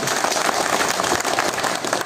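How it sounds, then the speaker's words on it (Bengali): A crowd at a BNP political rally in Bangladesh claps together, a loud, dense burst of applause with ragged individual claps, sustained throughout and fairly close. "আমরা আমিনুল ভাইকে করজোরে করতালি অভিনন্দন জানাই।"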